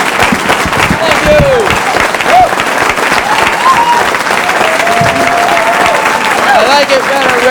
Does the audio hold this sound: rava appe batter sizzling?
no